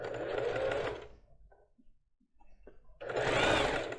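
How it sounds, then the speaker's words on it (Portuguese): Sewing machine stitching a lace bra with lined cups, running in two loud steady bursts about a second long each at the start and end, separated by a quiet pause filled with small handling clicks as the fabric is arranged. "Organiza e costura, organiza e costura, organiza e costura."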